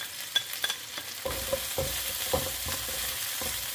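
Chili and garlic hit hot oil in a wok and sizzle steadily, with a stirring spatula scraping and clacking in sharp, irregular knocks over a constant frying hiss.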